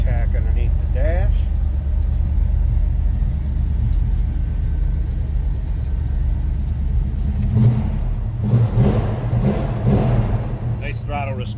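A 1974 Plymouth 'Cuda engine idling with a steady deep rumble, then revving up around the middle of the clip and settling back, heard close and loud, with someone talking over it at times.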